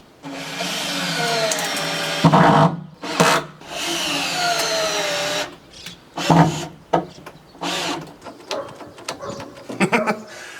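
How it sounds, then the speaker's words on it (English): A cordless power drill whirs in several bursts of varying length, driving screws into 2x4 lumber for a picnic table up close, with brief pauses and clattering between runs, until its battery runs out. "Last screw. Battery runs out of my drill."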